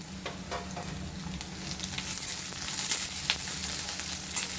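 Onion and chopped green chilli sautéing in a pan for kande pohe, a close, steady sizzle and crackle with light stirring that grows slightly louder midway.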